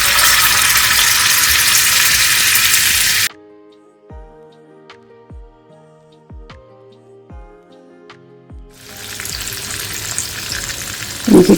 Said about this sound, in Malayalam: ഇനി നമുക്ക് സ്റ്റൗ ഓണാക്കി അത് ഫ്രൈ ചെയ്തെടുക്കാം. ഇത് വെളിച്ചെണ്ണയിൽ ചെയ്യുന്നതാണ് നല്ലത്.